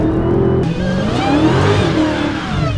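A Dodge Hellcat muscle car's engine revs hard, loud and close, its pitch climbing and dropping through several surging pulls.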